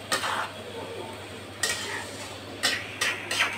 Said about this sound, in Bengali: মাংসটা একটু ভালো করে একটু নেড়ে চেড়ে সব মশলা একসাথে করে